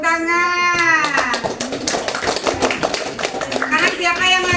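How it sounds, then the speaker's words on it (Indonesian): Children in a classroom clap their hands on cue, a burst of sharp, fairly close claps in the middle, surrounded by a voice and kids talking and calling out. "Oke, tepuk tangan."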